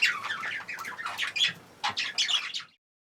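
Zebra finches chirp and squawk in an aviary shed at feeding time, a busy run of bright, overlapping calls in short bursts, close and fairly loud, ending in silence.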